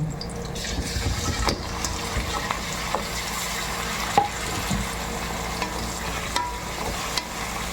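Chicken pieces and gizzards frying with sautéed aromatics in a pan, a dense continuous sizzle and bubbling close by, with occasional light clicks and scrapes of a utensil, no voices.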